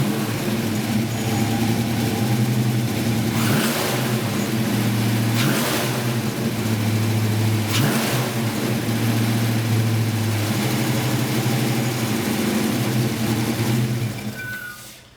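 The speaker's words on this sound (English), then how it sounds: "we're going to fire up the motor and let it idle, and then afterwards we're going to rev the motor a couple times" A car engine fires up and settles into a steady idle, then revs a couple of times in rising surges before dropping back, heard loud and close throughout with no talking.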